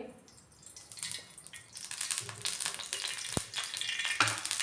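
Oil sizzling and crackling on a hot iron griddle, growing steadily louder, with a sharp metallic clink midway and spitting bursts throughout.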